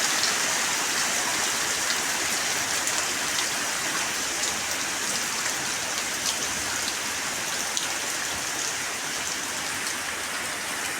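Rain falls steadily through an afternoon downpour, a dense continuous hiss of drops striking surfaces with faint pattering detail, holding the same level throughout and heard alone without voices.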